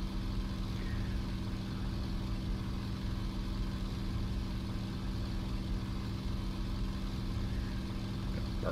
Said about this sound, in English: Burn my engine up trying to catch this 109.